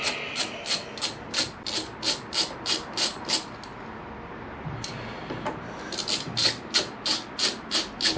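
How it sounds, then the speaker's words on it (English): Bolt being undone from the bar end of a Peugeot Django scooter handlebar: a steady run of regular, fairly close ratcheting rasps, pausing briefly midway before the rhythmic clicking resumes. "What I do need to do is just undo the bolt"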